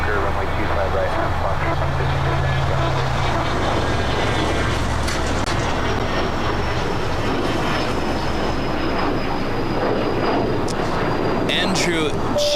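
A jet airliner taking off from runway 25 right at LAX, heard as a loud, constant broadband engine roar filling the whole span, with faint radio chatter and talk underneath.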